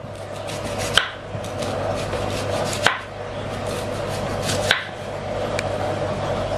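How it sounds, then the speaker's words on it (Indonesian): A kitchen knife finely minces onion on a board for potato croquettes: a steady, rapid close-up chopping patter throughout, with a few sharper knocks standing out at intervals. No voices. "kita akan cincang bawang bombaynya hingga benar-benar halus"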